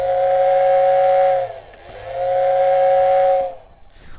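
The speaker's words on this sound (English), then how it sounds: "here's the sound of that whistle." A Lionel 0-6-0 model steam locomotive whistle sounds two long, steady blasts separated by a short pause, loud and close, with a faint hiss trailing after.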